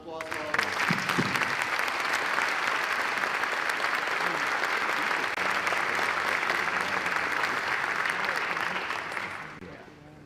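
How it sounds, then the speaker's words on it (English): Audience at a Parkland High School academic awards ceremony bursts into sustained applause, a dense, even roar of many hands clapping that holds for nearly ten seconds before tapering off at the end. "How about one final round of applause for all of us?"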